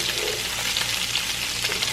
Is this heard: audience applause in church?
no